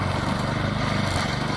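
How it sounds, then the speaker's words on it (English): A heavy-duty string trimmer cuts through grass with a loud, steady, buzzing engine drone close by, without a break. "then it's just mowing down all this grass"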